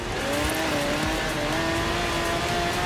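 A barn-find class D car racing in Forza Horizon 3 holds a steady engine drone with rising harmonic tones under constant road and tire noise. The car sounds close and loud throughout, and no one speaks.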